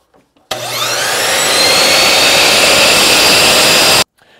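A power saw cuts hardwood scrap into pieces for a small safety rail: a loud, continuous motor whine that starts abruptly, rises in pitch as the blade spins up, then holds steady for about three and a half seconds before cutting off.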